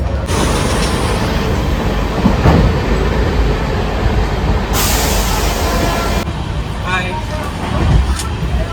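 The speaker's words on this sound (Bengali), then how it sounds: "ফাইনালি আমরা ট্রেনে উঠে পড়েছি" Amrit Bharat Express train running on the tracks, a steady loud rumbling roar of wheels and carriage from inside, with brief higher whines and hisses partway through and voices faintly underneath.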